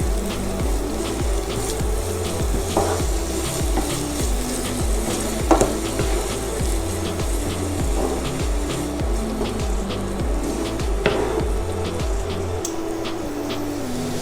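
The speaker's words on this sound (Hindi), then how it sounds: "अब हम इसमें 3 टेबलस्पून नारियल का पेस्ट डाल देंगे। इसको भी अच्छे से फ्राई कर लेंगे।" Coconut paste frying in a pan for spicy dum aloo, a steady close sizzle with repeated scraping stir strokes and occasional sharper clinks of the spoon, no talking.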